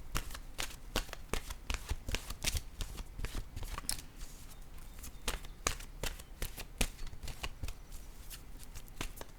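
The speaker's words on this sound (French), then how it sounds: "je vais piger une carte maintenant de mon oracle de l'âme intuitive" An oracle deck of cards is shuffled and drawn, a close, quiet run of rapid riffling and flicking bursts repeating for several seconds.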